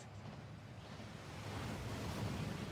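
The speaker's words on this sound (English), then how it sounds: "That waterfall washes away all enchantments." Rushing water from a waterfall in the video game Hogwarts Legacy, a soft steady broadband wash that swells slightly toward the end, distant and fairly faint, with no voices.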